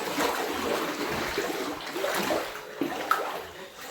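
Floodwater sloshes and trickles inside a flooded house during heavy rain in Kelavane village, Raigad, a continuous watery wash with small splashes close by, fairly faint and with no talk.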